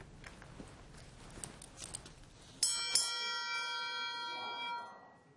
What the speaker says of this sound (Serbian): Zvono je obično simbol za uzbunu, međutim takođe i simbol berzanskog trgovanja.